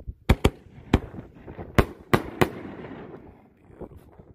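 Pagoda 4-inch canister firework shells burst in sequence, six sharp loud booms spread over a few seconds, each trailing off into crackling and rumbling echo outdoors.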